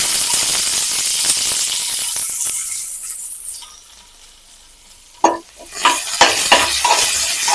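Chopped onions sizzle loudly in a hot pan for South Indian veg kurma, a dense crackling hiss that dips briefly, then flares again with stirring and clinks.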